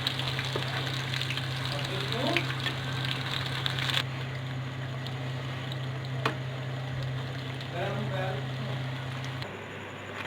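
Eggplant pakora coated in gram flour batter frying in a kadhai, a steady broadband sizzle of hot oil running the whole time, with faint background voice and an abrupt change in tone partway through.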